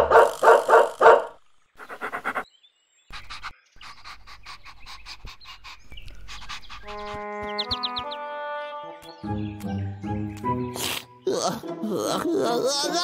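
Cartoon dog panting and barking in short bursts at the start, followed by sparse thumps and a bright, rising musical score with chimes and strings, loud and close.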